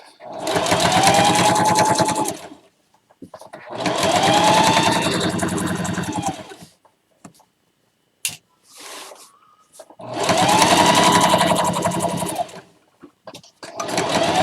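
A sewing machine stitching fabric for an egg gathering apron runs in three long, loud bursts of rapid whirring, separated by quiet pauses with a small click or two.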